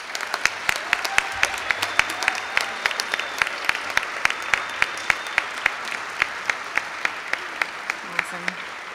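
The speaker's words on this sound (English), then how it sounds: "One more round of applause for our graduates." Applause at a nursing pinning ceremony for graduates, a fairly thin but continuous patter of clapping with sharp individual claps standing out, steady throughout the full stretch.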